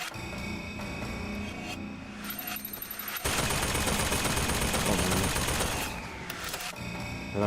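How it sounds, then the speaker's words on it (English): Automated turret gunfire in BioShock Infinite, a sustained, loud rattling stream of rapid shots lasting several seconds amid game music and ambient noise, with no talking. "There are turrets even here."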